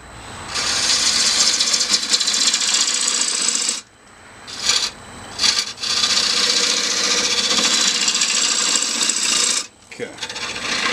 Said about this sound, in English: Go down to a 1/2 inch bowl gouge.